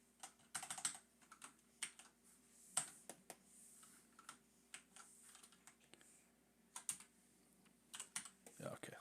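Computer keyboard typing at a desk during digital drawing work, a run of quick, light key clicks in uneven bursts, close and fairly quiet with short pauses between clusters.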